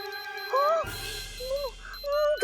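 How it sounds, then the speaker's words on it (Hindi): A cartoon warning device alarm in a children's fantasy show, sounding as rising electronic whistling tones in short repeated bursts over a steady buzzing background. "ये एक चेतावनी यंत्र की आवाज है जो तुम्हारे सिर पर बज रहा है।"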